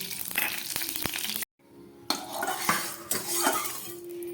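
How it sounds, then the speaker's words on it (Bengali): Cooking oil poured into a hot kadai, with a busy sizzle and clinks of utensils against the pan. The sound cuts out briefly, then resumes with scraping and stirring, close up and fairly quiet, with no talking. "কড়াইটা গরম হয়ে গেছে, তার মধ্যে দিয়ে দিলাম পরিমাণ মতো তেল।"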